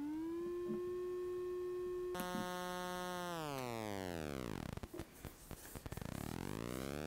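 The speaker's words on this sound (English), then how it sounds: "We can hear the triangle wave." Synthesized triangle-wave tone from a Teensy audio board, a steady harmonic drone that jumps in pitch, then sweeps down and back up through whirring, aliased glides before settling, clean and alone with no talk.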